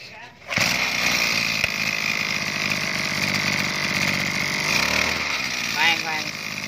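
Kubota DB247 brush cutter with a 32 cc engine and a cultivating head fitted below, running steadily at a loud, constant buzz after a sharp start, with a brief rise in revs near the end.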